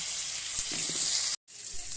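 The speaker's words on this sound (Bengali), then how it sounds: "তো আলুটা আগে ভালোভাবে লাল লাল করে ভেজে নেব।" Cut potatoes fry in hot oil with cumin seeds in a pan, giving a steady, close, bright sizzling hiss that drops out for a moment before resuming.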